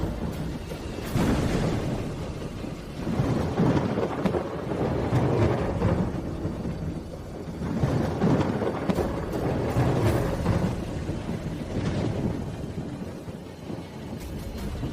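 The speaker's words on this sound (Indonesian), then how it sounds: "Jangan-jangan mau hujan." Thunderstorm with rain: rolling rumbles of thunder swell and fade several times over a steady hiss of falling rain, loud and continuous with no talk.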